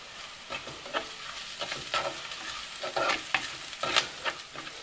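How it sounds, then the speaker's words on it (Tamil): Dried red chillies and curry leaves fry in sesame oil in a pan, with a steady crackling sizzle and repeated scraping stirs at close range, no voices. "இதோட மூன்று காஞ்ச மிளகாய் சேர்த்து வதக்குவோம்"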